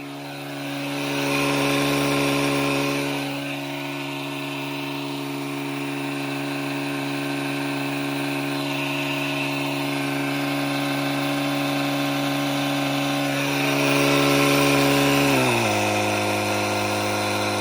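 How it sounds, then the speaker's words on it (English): An Etenwolf off-road multitool air compressor runs with a steady droning hum, swelling in loudness a couple of times before its pitch drops distinctly as the motor slows down near the end, close by with no voices. "You can hear it slow down the compressor."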